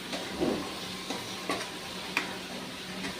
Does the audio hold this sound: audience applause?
no